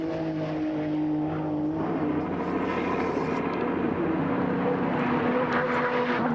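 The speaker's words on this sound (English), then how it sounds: "You can really hear the way the car puts its power to the road." A Group A touring car races at Mount Panorama, Bathurst, during the 1991 Tooheys 1000 top ten shootout. Its engine holds a steady, droning, moderately distant note that shifts pitch as it accelerates, with no talk over it.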